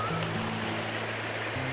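A waterfall on a walk around the Walensee rushes steadily in the distance, heard from a wooden bridge as a constant broadband wash with a low hum and a brief higher tone early on.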